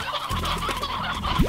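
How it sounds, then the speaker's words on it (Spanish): Chickens on a ranch in the video game Slime Rancher cluck in short, busy bursts. The sound is close and fairly loud, and a few rising squawks come near the end. "6 gallinas, estáis locos."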